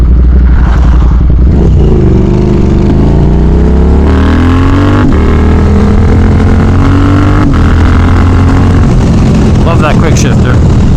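A new motorcycle exhaust revs loud and close, rising through several quick-shifter gear changes with clean pitch jumps under steady engine drone, with no talking.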